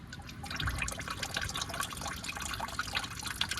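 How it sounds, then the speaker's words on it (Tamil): Water drains out during a major service on a Maruti Eeco van, a steady faint splashing trickle with no voices over it. "இதில் எவ்வளோ தண்ணி இருக்குது பாருங்கள்."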